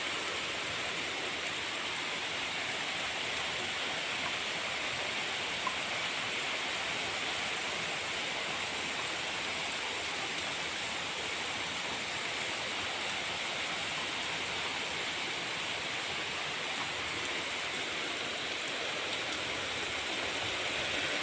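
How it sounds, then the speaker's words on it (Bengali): Heavy, steady downpour pours without a break, a dense, even roar of rain that stays loud and unchanging from start to finish with no voices. "তাগড়া বারিশ, যাকে বলে তাগড়া বারিশ।"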